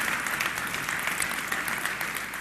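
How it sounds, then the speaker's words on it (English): An audience at a women's panel on network marketing applauds, a dense, steady wash of many hands clapping that holds evenly for a couple of seconds. "give yourself a round of applause"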